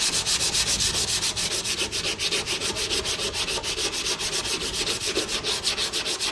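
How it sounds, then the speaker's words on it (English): Sandpaper rubs back and forth across a surface in rapid, even strokes, a loud rhythmic hissing scrape repeating about seven times per second with no talk. "Basically, I'm just sanding it so it'll stick."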